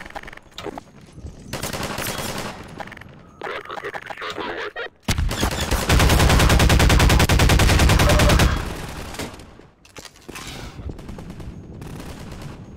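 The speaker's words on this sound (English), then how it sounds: "there's definitely firing happening inside" Sustained automatic gunfire inside a building in Half-Life 2, loud dense bursts with a long continuous rattle in the middle, alternating with shorter volleys and game sounds.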